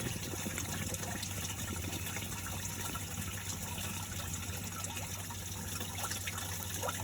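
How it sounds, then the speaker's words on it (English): Fluid drains steadily out of a Case 188D tractor into a bucket in a continuous, even trickle and splash over a constant hum, with no break in the flow. "Draining pretty good down there. Trying to catch all of it in the bucket if we can."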